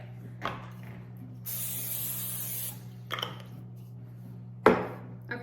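A short hissing spray from an aerosol can onto a cookie sheet lasts about a second, followed by a few clattering knocks and scrapes nearby.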